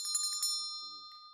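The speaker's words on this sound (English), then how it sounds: "That's a lovely bell." A donation alert bell chimes during a live show, ringing as a sustained high metallic tone with bright strikes at the start, while a voice murmurs faintly beneath it.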